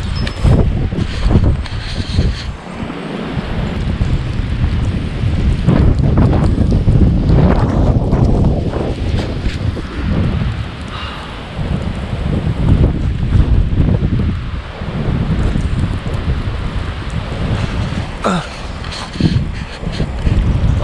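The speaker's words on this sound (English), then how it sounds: "as you can see, the wind is blowing so strong" Strong wind buffets the microphone outdoors by a house at night during a cold snowstorm, a constant loud roaring rush with gusts rising and falling throughout, no voices.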